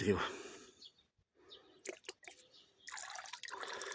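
Micro-fertilizer multicomplex liquid being mixed into water for a grapevine foliar feed makes brief sloshing, swirling and dripping sounds at close range, with short pauses between bursts.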